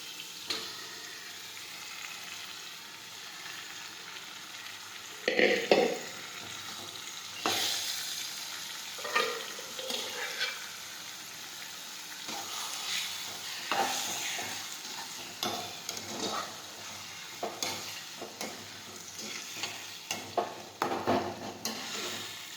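Boiled green urad beans being stirred in a pan, with scraping spoon strokes and soft sizzling in irregular bursts, close and moderately loud, no voices.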